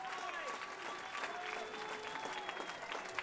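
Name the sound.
audience applause after a fight main event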